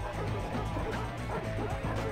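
Dogs bark and yip in the Three Dirty Dwarves video game, short repeated yelps over a steady, loud game soundtrack, the barks dense and close for the whole stretch.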